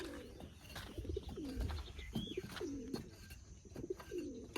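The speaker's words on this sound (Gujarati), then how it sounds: "આપણે હાજર છે કબૂતરની જોડી એક લગાડી છે" A newly paired couple of pigeons coo in repeated low, rolling calls spaced about a second apart, close and clear, with faint chirps and light rustling in the background.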